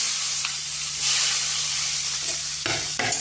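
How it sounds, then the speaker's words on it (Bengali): Radish going into hot oil with a chilli tempering while fish curry is made, a steady close sizzle with a few sharp stirring clatters near the end, no talk. "এবারে ওই তেলে একটু ফোড়ন দিয়ে দেবো, লঙ্কা ফোড়ন দিয়ে দেবো।"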